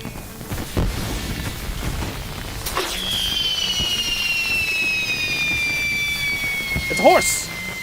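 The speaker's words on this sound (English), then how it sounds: "I always forget how impressive the fireworks system can be in LOTRO until you have, like, 25 people setting off fireworks" Fireworks go off in The Lord of the Rings Online during a crowded New Year's party, with a long whistling rocket streak, crackling bursts and a dense background roar, with no voices over it.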